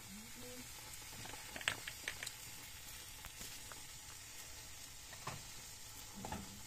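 A spoon works spices such as turmeric and black pepper into a homemade cat and dog biscuit mixture, giving soft, scattered scraping and patting noises, faint and close, with quiet background hiss.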